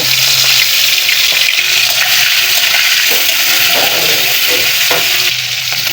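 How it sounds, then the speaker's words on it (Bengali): Shrimp fry in oil in a wok with a loud, dense, continuous sizzle and occasional stirring scrapes, up close and unbroken throughout. "এখন এই চিংড়ি মাছগুলো ভেজে নেব"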